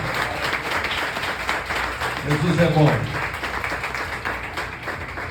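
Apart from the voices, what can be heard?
congregation applauding in church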